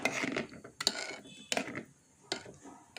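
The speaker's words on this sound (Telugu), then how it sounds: "మనం గెరిటతోనే అలా తిప్పితే సరిపోతుంది" A ladle scraping and clinking against a pot while mango dal is stirred, several separate metallic knocks spaced about every half second to second, close by and fairly faint with no talk.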